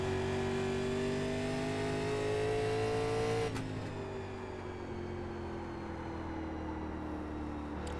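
Race car engines in a racing video game drone steadily at high revs, one tone sliding downward as a car lifts off for a corner, with a brief sharp click partway through and continuous engine noise throughout.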